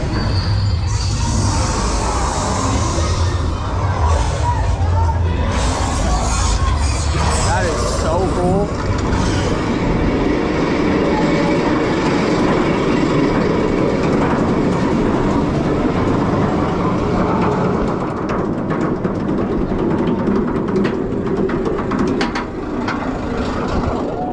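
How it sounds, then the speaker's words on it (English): The Phoenix B&M Wing Coaster at Toverland rumbles and clatters continuously on its track, loud and close from the back row. Wind rushes over it, and riders' voices come through briefly. "last ride today, back row, left side on Phoenix, B&M Wing Coaster"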